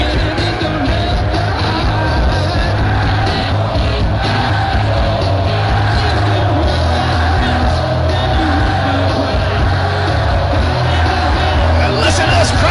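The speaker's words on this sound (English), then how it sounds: "Listen to this crowd explode!" A packed wrestling arena crowd roars and yells continuously in a loud, dense din, with an excited voice talking over the top.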